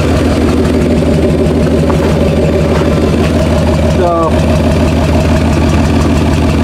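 A Chevy/GMC 7.4L V8 with a misfire idles with a steady, deep exhaust rumble throughout, while a person speaks briefly over it.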